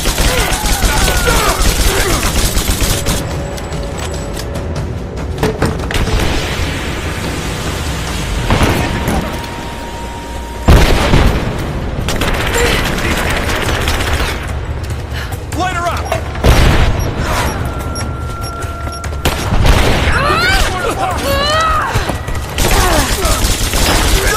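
Rise of the Tomb Raider combat: sustained gunfire volleys with booming grenade explosions, loud and dense throughout, punctuated by sharp blasts while soldiers shout commands over the fighting.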